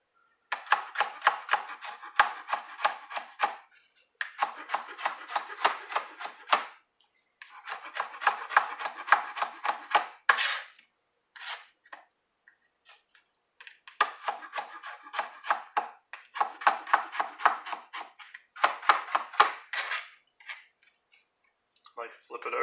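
Kitchen knife chopping ingredients for tabouli on a cutting board: quick runs of rhythmic cuts in repeated bursts, separated by brief pauses, close and moderately loud.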